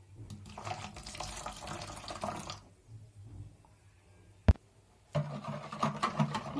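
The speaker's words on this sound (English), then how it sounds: "We add our milk." Milk poured into chocolate crepe batter for homemade crepes, a close liquid pour running for a couple of seconds, then a quiet pause broken by a single sharp tap and a second burst of splashing and clinking.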